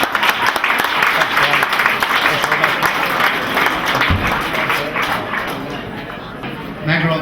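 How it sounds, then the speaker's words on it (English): Dense, sustained applause from a crowd at a junior football club awards presentation, loud and close, continuing for several seconds with a voice heard over it. "put your hands together and give him a good clap"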